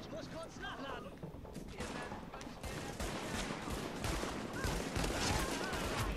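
Rapid gunfire crackles continuously in a multiplayer scene from The Division, with dense bursts of shots and faint electronic tones in the background.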